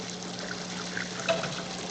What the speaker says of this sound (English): You'll see some of the water coming out of the pipe as the siphon starts to flow.